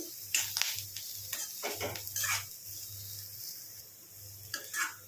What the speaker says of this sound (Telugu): ఇందులో మనం దంచుకున్న వెల్లుల్లి కారం వేసుకుందాము. ఇదంతా మంచిగా కలుపుకోండి.